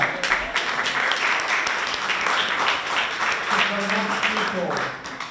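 Event audience at a New York Africa Chamber of Commerce gathering claps in a steady, moderately loud round of applause, with voices talking over the clapping.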